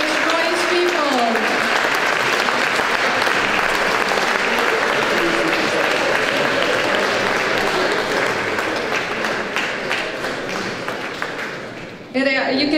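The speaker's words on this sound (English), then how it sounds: "Give him an applause." An audience at the Oxford art fair awards applauds Best Artist Award winner Royce Peeble, a loud, sustained wave of clapping over crowd murmur that fades gradually and then cuts off abruptly near the end.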